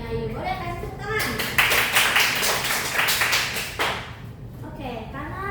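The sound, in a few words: classroom applause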